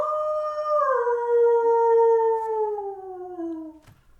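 A man imitates a wolf howl with his voice, one long sustained howl that slides slowly downward in pitch, loud and close, ending with a short thump.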